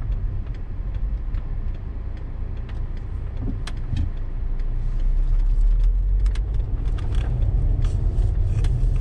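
A 2008 VW Passat engine idles with a steady low rumble and light ticking, recorded close up with occasional clicks and no talk.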